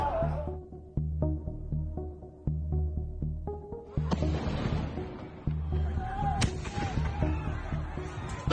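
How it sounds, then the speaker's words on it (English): Fireworks thrown into a student protest encampment, heard as a sharp burst of bangs and crackling about halfway through, loud over a steady low droning background of music and crowd noise. "Throwing fireworks into the encampment."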